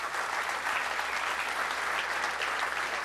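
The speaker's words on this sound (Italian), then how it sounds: "L'applauso quindi per il Vesna." A theatre audience applauds a returning Santa Croce football team at an end-of-season gala, a dense, steady wash of clapping that holds at full strength for the whole stretch.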